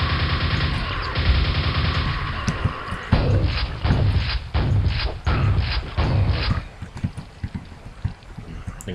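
A nail gun fires in Quake inside a grotto, a loud rapid rattle of repeated shots in several bursts separated by short pauses, with scattered impacts after.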